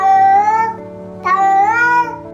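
A domestic cat in heat lets out two long, drawn-out yowls, close and loud, each rising and wavering, separated by a brief pause.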